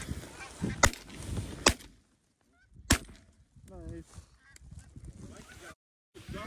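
Geese honk repeatedly during a North Dakota duck and goose hunt, scattered calls near and far, mixed with a few sharp loud bangs that sound like shotgun blasts and short silences between.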